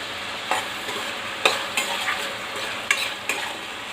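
Onions frying with salt in a pan while being stirred, a steady sizzle under several sharp scraping clicks of a spoon against the pan, close and fairly loud, no voices.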